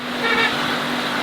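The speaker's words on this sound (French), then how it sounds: "Non, vas-y, klaxon." A rally car's horn sounds a short, steady toot over low road and engine noise, close and fairly loud.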